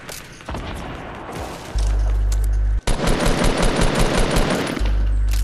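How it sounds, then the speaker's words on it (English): Rapid bursts of automatic gunfire in the Fortnite video game, loud and close, firing in sustained volleys with a brief gap midway and heavy low-end thumps throughout. "Yeah, I'm getting shot at."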